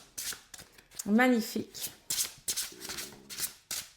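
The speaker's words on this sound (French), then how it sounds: "c'est un gros paquet à mélanger, mais il se mélange très, très, très, très bien" A large oracle card deck is shuffled by hand in quick riffling bursts and soft slides, close and crisp, with someone speaking French between and over the shuffles.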